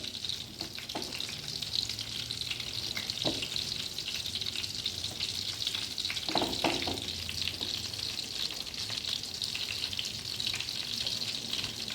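Slices of bread toasting on a very hot tawa for a homemade chicken burger, giving a steady close sizzle and crackle throughout with a few soft scraping knocks of a spatula, no voices.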